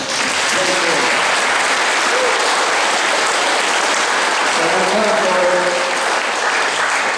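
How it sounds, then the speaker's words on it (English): Loud, dense applause from a large crowd at a veterans ceremony fills the whole stretch, continuous and close, with faint voices buried underneath. "Let's give a round of applause for him."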